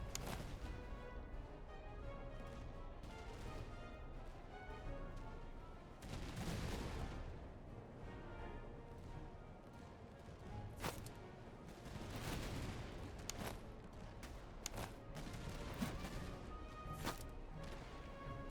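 Canister shot fired by artillery in the video game Master of Command, a stretch of battle with scattered sharp cracks and booming volleys against a constant rumble of distant gunfire.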